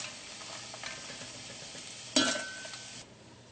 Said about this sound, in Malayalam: ആ വാളംപുളിയും എണ്ണയിൽ കിടന്നിട്ടൊന്ന് മുരിയണം